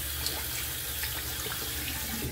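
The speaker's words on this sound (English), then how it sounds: "Cold water rinse." Cold water runs steadily from a bathroom tap for a rinse after a shave, a continuous close hiss and splash with no voices.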